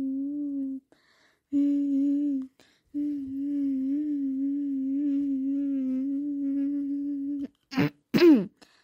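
A long steady hum-like tone drones for several seconds, then two short coughs burst out at the end.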